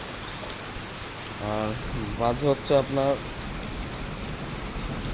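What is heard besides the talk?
heavy rain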